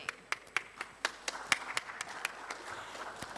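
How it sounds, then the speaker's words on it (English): Sparse applause from a conference audience at a Dubai marketing panel as the session moderator is welcomed: a handful of separate, crisp claps in an uneven rhythm over a quiet room. "Please give a round of applause to welcome our session moderator"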